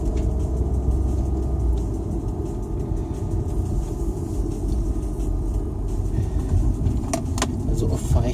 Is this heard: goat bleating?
no